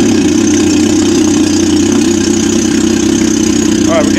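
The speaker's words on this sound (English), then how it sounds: "go ahead and start the motor" A Honda outboard motor idles steadily while being flushed with water, giving a loud, continuous engine drone close up from start to finish, with a faint squeaky sound near the end.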